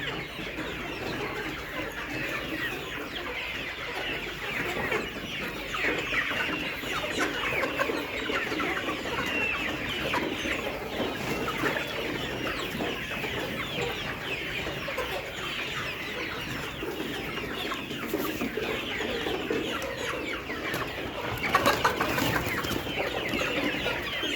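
Many layer hens clucking together in a continuous, busy chorus, some near and some farther off, with a brief louder squawk toward the end.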